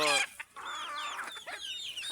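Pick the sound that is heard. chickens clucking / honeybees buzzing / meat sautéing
chickens clucking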